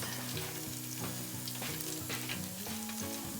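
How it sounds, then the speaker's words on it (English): A steak sizzles and crackles steadily in a hot pan, a close constant hiss with a tonal hum running underneath. "Now I had that frying for 5 minutes."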